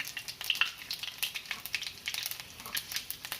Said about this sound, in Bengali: 5 ফোড়ন দিচ্ছি